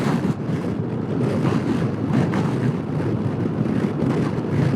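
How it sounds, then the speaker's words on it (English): Strong, steady wind roars across the microphone while riding a scooter at near-full throttle on the Scooter Cannonball ride from Roswell to Socorro, New Mexico, a continuous loud buffeting rush with no let-up. "This wind is not forgiving out here"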